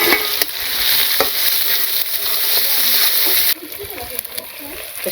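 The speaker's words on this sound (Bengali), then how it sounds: "শাক আর কাঁচামরিচ এই ডিমের সাথে আর পেঁয়াজের সাথে তেল দিয়ে একটু ভেজে নিই" Onions, egg, greens and green chilies frying in oil in a village kitchen, a steady loud sizzle with stirring scrapes and splatter throughout, a voice speaking over the cooking.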